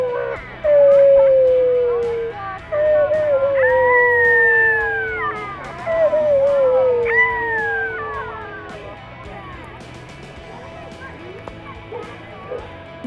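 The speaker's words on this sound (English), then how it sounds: "this is a beautiful dog." A dog named Cookie howls in long rising and falling wails, several drawn-out howls close by at an outdoor rain boot race event, with crowd chatter and voices underneath.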